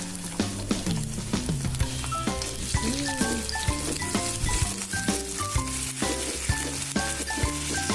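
Orek tempe being stirred in a pan with sauce and soy sauce, a soft sizzle and scraping stirs beneath tonal background music.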